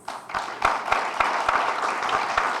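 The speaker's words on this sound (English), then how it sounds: "Hold your applause. Hold your applause." An audience applauds during a speech by the Sindh Chief Minister, with steady, moderately loud clapping that carries on without pause and no voices on top.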